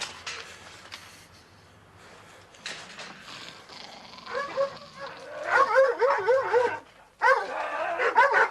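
Dogs bark and yip in a rapid, agitated flurry that grows louder toward the end, with whimpers mixed in. A dull, muffled background runs underneath, as in a reconstruction of a night-time burglary at a house.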